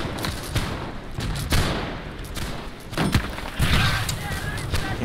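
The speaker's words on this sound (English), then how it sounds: "Cannonballs aimed right where we were." Cannonballs and musket gunfire in the Holdfast battle game, a series of heavy booms and sharp cracks in irregular bursts, loud and close over a dense battle din.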